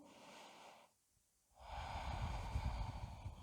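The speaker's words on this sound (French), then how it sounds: "Prenez une longue respiration." Slow, audible breath during a vinyasa yoga flow, moving from upward dog into downward dog. A brief quiet pause is followed by a long, steady breathy rush that stays close and even.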